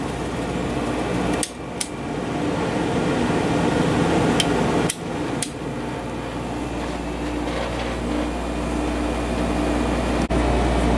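A Fedders 7500 BTU window air conditioner runs with fan and compressor going, a steady loud hum and airflow rumble close by, broken by a few brief clicks and knocks.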